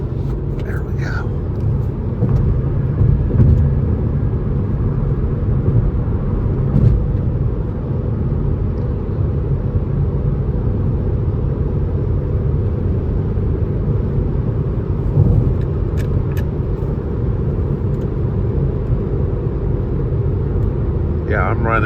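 A 2011 Volvo C30 R-line cruises at about 70 mph, giving a steady low road and engine rumble with tyre noise inside the cabin, while someone talks over it now and then.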